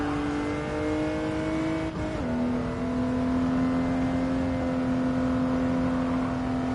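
A car engine in the racing game Gran Turismo 7 holds a steady, buzzing drone, with a brief dip as it shifts gear before settling into a sustained rev, loud and continuous.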